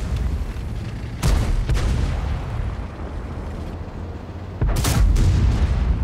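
Tank cannon shots in the World of Tanks video game, two loud booming blasts about three seconds apart over a steady rumbling battlefield bed, with no talking.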